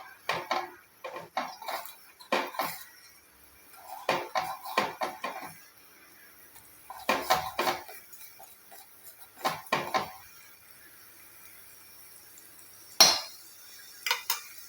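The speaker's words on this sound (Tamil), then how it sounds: "இதை நல்லா கலந்து விட்டுறலாம்" A homemade grey-hair oil mixture stirred in a wide cooking vessel, a spoon clinking and scraping against the pot in irregular clusters of sharp metallic taps with quiet pauses between.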